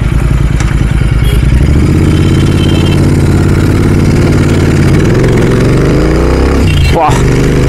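A Royal Enfield Continental GT650 motorcycle idles with a loud, steady exhaust note and close, constant low thumping, with a brief blip near the end.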